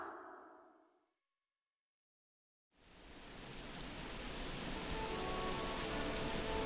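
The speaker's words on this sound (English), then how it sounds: "It was raining." Rain falling in the video game Legend of Grimrock, a dense, steady hiss of drops on surfaces that swells in after a short faint sound and a stretch of silence, then continues evenly.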